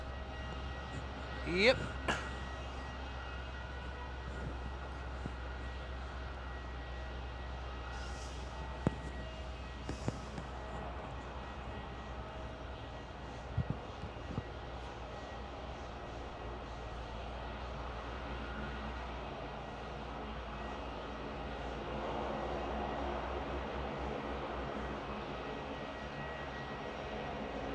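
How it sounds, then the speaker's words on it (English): A Virgin Australia Boeing 737-800 lands at Melbourne Airport, a faint distant steady engine roar under a low constant hum, with a few brief clicks and a short spoken word early on. "about to drop it in is velocity 1036 from the Sunshine Coast with a 737-800"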